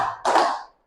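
A classroom clapping chant (tepuk sidik): one sharp, close clap of hands that quickly fades, with no talk over it.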